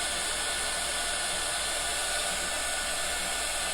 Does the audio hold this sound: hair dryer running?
yes